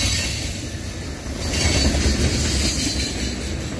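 A Norfolk Southern mixed freight train rolls past close and loud, with a steady rumble of cars, rhythmic wheel clatter and thin, high wheel squeal throughout.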